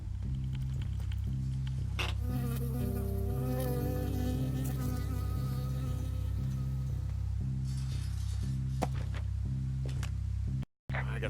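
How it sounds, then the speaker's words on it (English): A bee buzzes near the listener with a steady, droning hum that lasts several seconds in the woodland video game Firewatch, set against a pulsing low rhythmic background and dropping out abruptly near the end. "I got stung by a bee."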